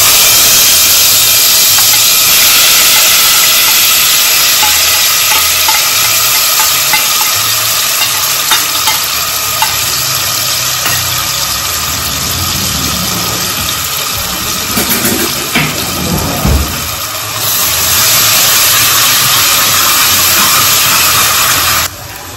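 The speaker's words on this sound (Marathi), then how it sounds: "आता मी आधी ना तेलामध्ये आपलं वाटण म्हणजे आहे ना वाटण ते टाकणार" Masala paste frying in oil on low gas, a loud, steady sizzle and hiss that runs continuously, close up, with faint stirring scrapes underneath.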